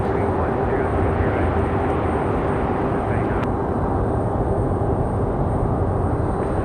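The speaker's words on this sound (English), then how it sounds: "We've got a Frontier getting ready for departure." A Frontier Airlines jet departing a runway at Raleigh-Durham International Airport, a loud, steady engine roar filling the whole stretch, with speech mixed faintly underneath.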